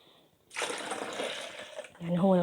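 Water pours from a measuring cup into a blender holding milk for crepe batter, a steady splashing gush lasting about a second and a half, close and fairly loud, ending as a voice begins speaking.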